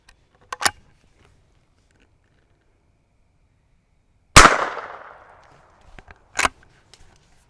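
A .22 LR Winchester Super X shotshell fires in one sharp report with a ringing, decaying tail, set between a couple of fainter clicks and handling knocks.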